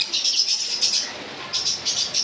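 Caged lovebirds and Java sparrows at a bird sale chatter with rapid high chirps and tweets. The bursts pulse steadily and are fairly close, with occasional squawks and wing flutters mixed in.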